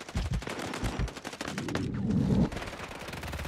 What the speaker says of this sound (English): I'm taking effective fire!